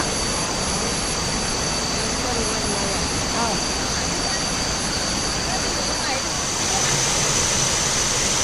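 A waterfall at the fifth tier of a resort cascade in Thailand gives off a loud, unbroken broadband roar that fills the whole stretch, with faint voices barely rising above it.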